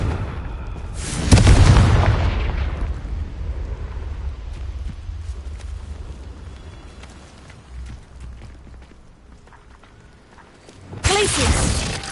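A Confringo fire spell explodes in Hogwarts Legacy, a loud deep boom with a long rumbling tail that fades over several seconds before a second heavy blast bursts in at the end.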